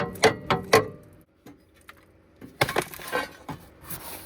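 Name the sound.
Sprinter steering rack control arm bushing coming loose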